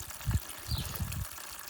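Hot water gushes steadily into a bucket, a low churning splash with no voices.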